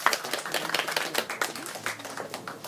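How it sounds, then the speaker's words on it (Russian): Audience applause at a book presentation, a steady patter of many hands clapping at moderate volume, without much voice over it. "Аплодисменты."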